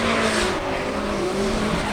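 A pair of Nissan S13s drifting side by side at a track competition, tires squealing continuously in a loud, sustained screech over roaring engines, close and unbroken throughout.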